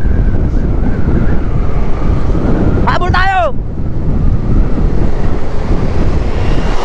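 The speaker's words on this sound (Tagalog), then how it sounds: "Lakas ng hangin." Heavy wind buffeting the microphone throughout, a constant loud roar, with a brief shout and a passing motorbike's whine partway through.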